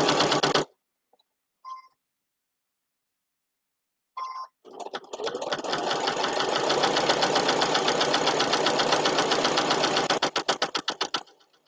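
A sewing machine stitches fabric strips onto batting for a quilt-as-you-go potholder, with a few brief clicks before a steady, close, rapid mechanical whir runs for about seven seconds and then slows into separate thumps at the end.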